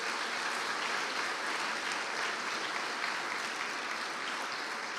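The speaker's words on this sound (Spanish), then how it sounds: "Dele fuertes ofrendas de palmas a nuestro Dios." Church congregation members at a Spanish-language worship service give a strong round of steady, dense clapping, continuous and fairly close, with no voices standing out.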